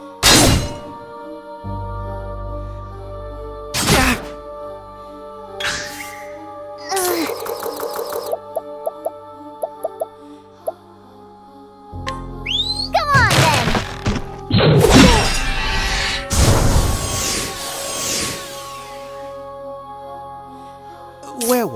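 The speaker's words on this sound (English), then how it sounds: "axe attack" Axe strikes in Octopath Traveler II battle, several sharp thwacking hits spread across the stretch amid crashing effects, game music and in-game voice lines.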